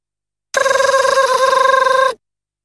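An electronic telephone ring from a car phone in the JoJo's Bizarre Adventure PS2 game: a single warbling, trilling burst lasting about a second and a half, loud and clean with silence before and after.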